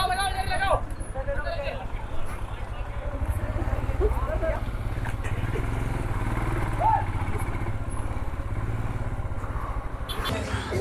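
A motorcycle engine drones steadily and close throughout a ride near Kempty Falls in Mussoorie. People talk over the low, continuous rumble.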